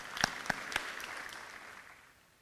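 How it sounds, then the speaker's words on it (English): An audience at a Trinidad and Tobago Indian Arrival celebration gives a short, faint round of applause after a prize announcement, a few distinct claps up front dissolving into scattered clapping that fades away. "Let's give them a round of applause."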